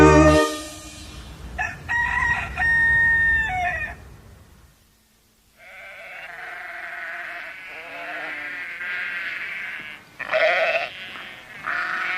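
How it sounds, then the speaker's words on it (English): A loud, close rooster-like crow rings out, followed by a long, wavering bleating call, with no talking. "Quite well, thank you, cock-a-doodle-doo."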